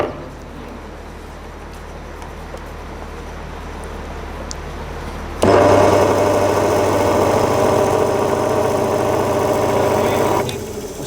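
A single phase repulsion motor runs with its carbon brush position shifted, giving a steady whirring hum that jumps sharply louder midway and holds at a dense, buzzing roar before easing slightly near the end.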